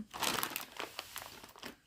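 A plastic bag holding vintage costume jewelry from the USA crinkles and crackles as it is opened, a close, busy run of crisp rustles lasting about two seconds with no talking.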